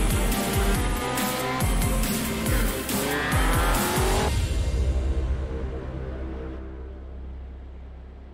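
Race cars in an iRacing simulation on the Texas Motor Speedway asphalt oval roar loudly as tires squeal and slide, the engine and skid noise building, then slowly fading away.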